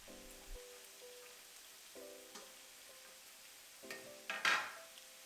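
Mushrooms drop into a hot pan of yakisoba stir-fry with carrots, giving a few soft clatters and a quiet sizzle that flares briefly near the end; faint overall, no talking.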